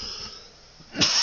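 One short, abrupt cough bursts out near the end after a quiet, breathy stretch, close and fairly loud.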